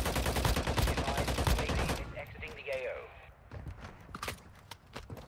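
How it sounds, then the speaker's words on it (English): Rapid gunfire in the mobile battle royale shooter Warzone Mobile, a loud sustained volley of shots that breaks off into scattered single shots and footsteps, with a player talking over it. "Yep, keep shooting at me, buddy."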